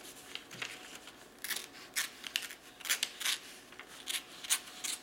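A knife slicing through letter-sized printing paper, a run of crisp scraping and rasping strokes, irregular and close, some sharper than others.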